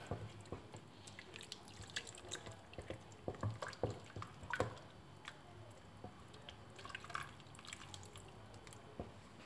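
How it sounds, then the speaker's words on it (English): Fresh milk is added gradually to a moussaka sauce while it is stirred, giving soft, close wet squishes and drips in an uneven rhythm, quiet and without voices. "300 milliliters of fresh milk. Gradually add it to our sauce and keep stirring."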